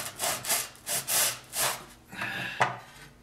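A hand saw cuts through foam in rhythmic back-and-forth strokes, about six rasping passes close by with brief pauses between them.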